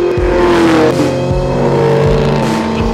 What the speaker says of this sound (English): muscle up front and then that lovely whine from the supercharger